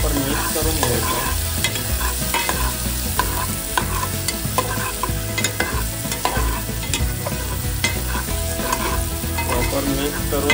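Food being tossed and mixed in a pan for a Marathi tomato saar, loud close sizzling under a steady run of rhythmic spatula scrapes and clatters throughout.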